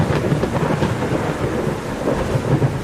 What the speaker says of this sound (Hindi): थोड़ी ही देर में तूफान के साथ साथ तेज बारिश भी